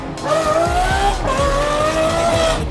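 A Lamborghini V10 engine roars close by, its revving tone rising and falling as the car accelerates and shifts, with no talking.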